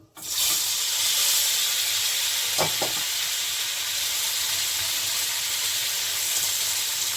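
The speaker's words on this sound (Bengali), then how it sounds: "আমার কিটা হাই হিটেই আছে তাইলে কী হবে পনিরটা তাড়াতাড়ি ভাজা হবে" Paneer frying in oil on high heat, a steady close sizzle that holds evenly throughout, with a brief clink of a utensil partway through and no voices.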